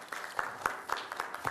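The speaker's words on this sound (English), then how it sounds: "we've heard plenty of clapping this evening" A few scattered claps ring out from an audience at a county planning commission meeting, faint and sparse, each a sharp isolated slap rather than sustained applause.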